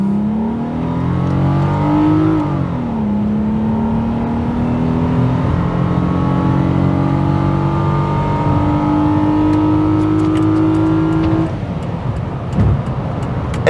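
A Nissan Maxima V6 engine revs loud and close, pitch climbing and holding through long pulls, then drops off near the end with a few clicks.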